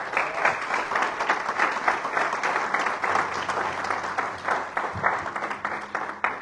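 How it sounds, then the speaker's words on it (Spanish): A church congregation clapping along during a sermon, rhythmic group clapping at moderate distance, steady throughout, with a low sustained tone entering near the end. "Dele palmas si se la quiere dar."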